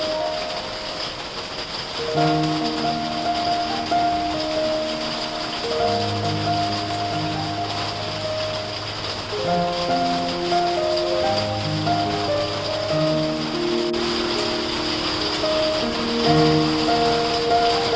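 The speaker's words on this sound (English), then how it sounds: "the sound of rain." Steady rain falling on a Coorg coffee estate throughout, a soft continuous patter and hiss, with gentle musical tones playing over it.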